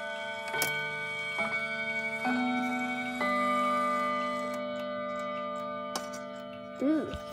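An old striking clock with a full Westminster chime hums with long, steady ringing tones. A few faint ticks and knocks punctuate the sound, close by and moderately loud.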